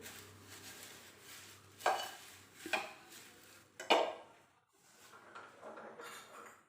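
A utensil scrapes and knocks against a pan a few times while stirring masala flattened rice, dry stirring sounds with soft rustling between, fairly quiet and close.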